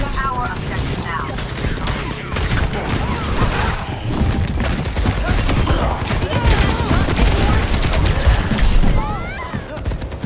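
Rapid sustained gunfire in an Overwatch 2 match on the Junkertown map, dense bursts of shots and impacts rattling continuously, with game voice lines and chatter woven through the firefight.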